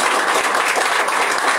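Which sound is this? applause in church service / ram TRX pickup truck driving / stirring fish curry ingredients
applause in church service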